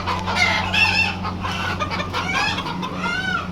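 Chickens and roosters clucking and crowing at an animal auction in Kuwait, with pigeons kept nearby; overlapping bird calls at close range over a steady low mechanical hum, no talking.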